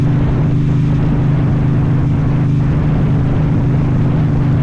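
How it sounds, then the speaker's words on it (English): A dirt bike engine drones loud and steady while riding over a bumpy road, a continuous low rumble with a constant hum and no breaks, close up and without talk. "I just kind of dirt bike over all these bumps. It gets a little rough."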